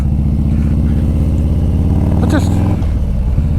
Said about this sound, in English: that exhaust is loud, eh?